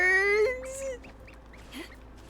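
Ducklike bird quacks in the Genshin Impact video game, a couple of short nasal calls close by, alone with no talk.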